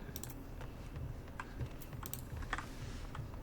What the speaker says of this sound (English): Or maybe he's just typing in chat to someone who's talking to him in voice chat.